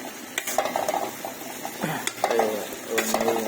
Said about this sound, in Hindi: उसको थोड़ा क्रिस्पी बनाएंगे और धीरे से फ्राई करेंगे